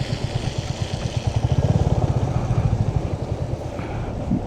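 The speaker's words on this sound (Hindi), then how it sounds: "बाइक ऑफ कर दे रहा हूँ भाई मैं।" Motorcycle engine idling up close on a mountain ride, a steady rapid thumping pulse that holds for several seconds before fading down at the end.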